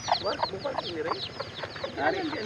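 Chickens cluck in quick, overlapping bursts nearby, a busy flock chattering continuously over a faint background.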